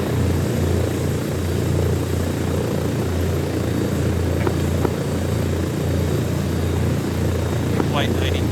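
In the ArmA 3 video game, an aircraft taxis down a runway at 40 with a loud, steady engine drone and low rumble throughout, and a voice speaks over it.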